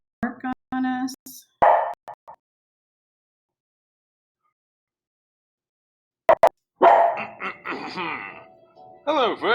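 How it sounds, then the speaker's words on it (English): A pet dog barks in short bursts at close range indoors, separated by silence, with a person talking nearby. "gonna bark on us"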